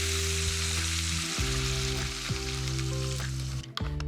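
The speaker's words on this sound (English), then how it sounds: "I'm going to put in some chicken stock" Chicken stock poured into a hot pot for a prawn, lemongrass and coconut soup, giving a steady close sizzle and hiss with a few brief clunks near the end, no voices.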